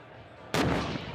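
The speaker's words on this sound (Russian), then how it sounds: "Выстрел!" A tank's main gun fires at a target 1700 metres away during a tank biathlon: one sudden loud blast that cuts through steady engine rumble and leaves a long, rolling decay.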